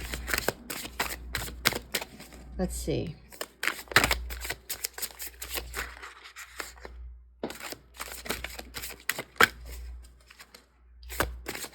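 Repeated crisp riffling and slapping of a large pile of tarot cards from several decks being shuffled, coming in quick bursts with short pauses, close by, with a brief spoken remark.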